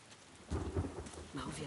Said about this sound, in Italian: Ci mancava giusto la pioggia